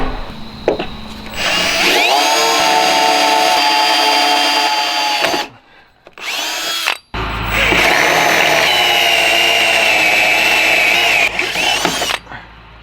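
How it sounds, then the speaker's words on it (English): A power drill with small and then larger 5/16 and 3/8 bits bores holes in a metal coilover top hat, with loud sustained whining runs broken by brief pauses and restarts. "start drilling this with a small drill bit, and then I'm gonna step it up to this 5/16 drill bit right here"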